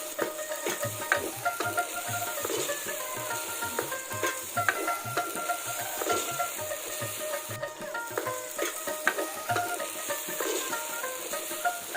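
Chopped onions and green chillies for a duck curry fry in a pan, giving a steady close sizzle broken by a regular pulse of spatula scrapes and clicks as they are stirred, with no voices.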